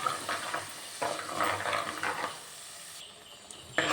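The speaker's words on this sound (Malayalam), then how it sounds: "ഇനി ഇത് വഴറ്റിയെടുക്കാം" Fish curry masala sautéing in a pan with tamarind water, giving a steady sizzle with intermittent stirring scrapes, close and moderately loud, no talk.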